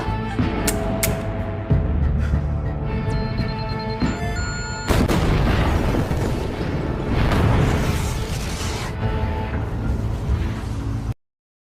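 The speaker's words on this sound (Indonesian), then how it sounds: "meninggalkannya di dalam gedung yang akan meledak" A building explodes in an action film about a mercenary commander. A dense, roaring wall of blast and rumble runs for about eleven seconds, surges louder partway through, and then cuts off abruptly.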